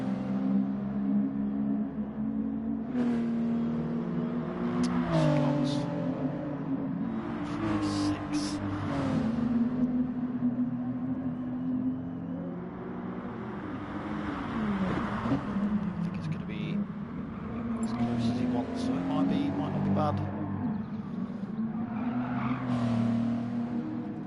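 A Nissan, one of the larger cars in a 90s classic race car league, corners through a hairpin in a racing video game, its engine droning steadily with rising and falling revs and brief tire squeal, under continuous commentary.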